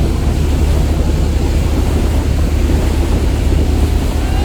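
Twin engines of the passenger launch M Khan-7 at 880 rpm thunder along a river during a race, a heavy, steady low roar mixed with wind and water rush, loud and close without pause.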